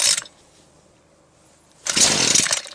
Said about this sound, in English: put the choke on. Alright, full choke. No primer. Let's see what she does.